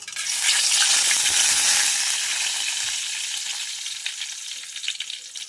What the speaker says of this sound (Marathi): तेल आपलं तापलेलं आहे त्यामध्ये हे खडे मसाले घालूया